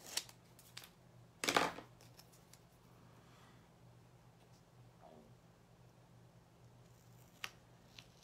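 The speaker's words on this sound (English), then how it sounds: "let's get the back off the double-sided tape here" Backing peeled off double-sided tape on a handmade wooden recipe box, a short crisp ripping burst near the start, then quiet handling noises and a few faint ticks.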